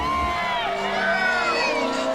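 A large outdoor crowd at a Hobbit film premiere cheers and whoops continuously, with many overlapping high voices shouting and a steady babble underneath, close and loud throughout.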